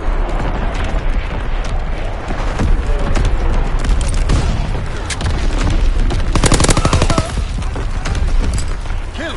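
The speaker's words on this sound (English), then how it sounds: "Firing primary battery" A warship's primary battery guns fire in a World War II naval video game, delivering loud booming salvos and rumbling blasts that overlap densely, with intense crackling bursts near the middle.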